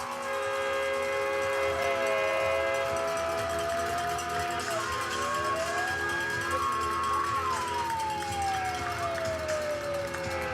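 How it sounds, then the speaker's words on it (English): Train horns blare at a high school football game as the team takes the field, several long sustained tones with one rising and falling, loud over steady crowd and stadium noise. "You hear the horns. Let's just listen to that for a minute."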